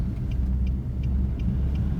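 A Nissan 4x4 engine running in third gear, a low steady rumble with faint periodic ticks above it, close and continuous with no voices.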